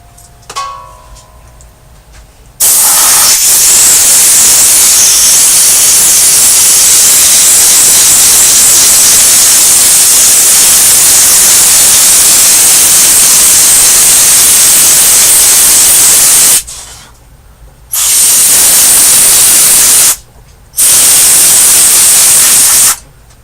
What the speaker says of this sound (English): Just going to blow some air through them